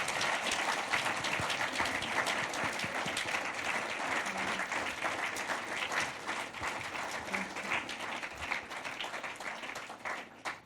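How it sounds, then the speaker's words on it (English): A live audience claps in sustained, steady applause at a law-focused public event, a dense wash of hands filling the room from start to finish with little break. "So give them a round of applause"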